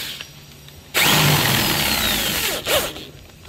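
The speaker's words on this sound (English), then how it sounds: "So here we are, we're gonna countersink these just a little bit." Power drill with a larger bit countersinking screw holes for stainless steel rails on a beach house build, a loud steady whirring burst of about two seconds that cuts off and revs briefly once more, with quieter background before.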